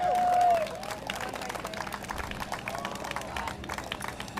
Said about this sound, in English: Let's give a round of applause to our little heroes